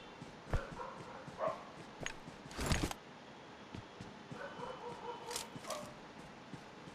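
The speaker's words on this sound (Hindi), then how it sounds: "गली के कुत्ते भौंकने लग जाते हैं" Street dogs bark intermittently at a distance outdoors, with a few sharper yelps standing out over steady background noise.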